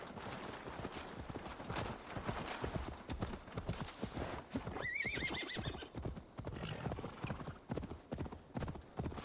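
Rhythmic hoofbeats clop steadily throughout as a horse runs in Assassin's Creed Valhalla, with a sharp, high whinny breaking through midway; the galloping continues afterward.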